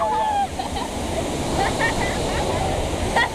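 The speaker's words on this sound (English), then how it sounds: "There's the waterfall." Waterfall splashing on a theme park water ride at Europa Park, a steady broadband rush of falling water close by, with excited voices calling out over it.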